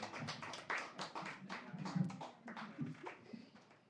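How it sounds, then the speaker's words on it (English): A small cafe audience at an open mic claps in a brief, quiet round of applause lasting a few seconds, with scattered uneven claps. "Let's applaud one more time there."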